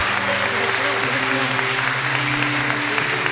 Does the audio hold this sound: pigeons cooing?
no